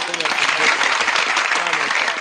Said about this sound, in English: Hey, round of applause for the score for